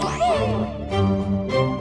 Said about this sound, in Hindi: बिल्ली की आवाज कहाँ से आ रही है?